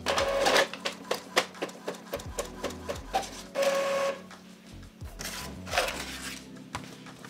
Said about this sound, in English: I'm gonna send it to my printer,